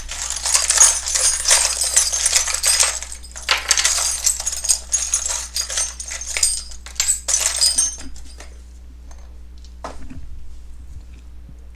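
Handfuls of small charms and a rune are shuffled with bright, clinking, rattling chinks that come in dense bursts for several seconds, then thin out to scattered taps and near quiet.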